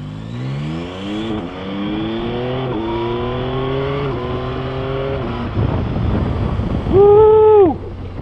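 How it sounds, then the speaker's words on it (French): Yamaha Tracer 9 GT motorcycle accelerating hard through several quick-shifted gears, with engine pitch climbing and dropping at each change, then a sharp rev near the end, loud and steady throughout. "On va faire un petit peu d'accélération là."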